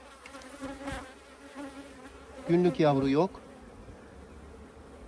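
Close, steady buzzing of honey bees and drones crawling on a pollen-filled hive comb, with someone speaking briefly over the hum.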